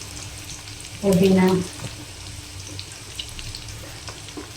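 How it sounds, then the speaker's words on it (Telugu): Onions, green chilies, coriander, curry leaves and mint drop into hot oil with a loud, close sizzling burst lasting about half a second, then settle into a softer steady frying hiss. A voice briefly speaks. "ఇది వేసుకొని కొంచెం లైట్గా వేపేసుకోండి"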